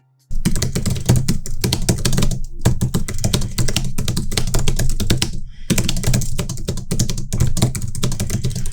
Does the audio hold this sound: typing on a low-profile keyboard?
yes